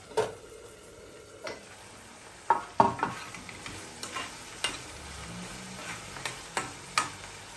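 Shrimp paste (alamang) sautéing with pork in a pan, with a quiet background sizzle broken by a series of sharp spoon-against-pan clinks and stirring taps at irregular intervals.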